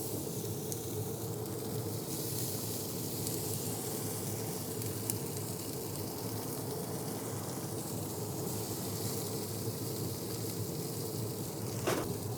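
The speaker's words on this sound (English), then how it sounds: "we're gonna put down a couple tablespoons of our chili infused oil and immediately wanna lay down our catfish fillets" Catfish fillets sizzle hard in chili-infused oil in a cast iron skillet, a loud continuous hiss with no voices, holding steady throughout.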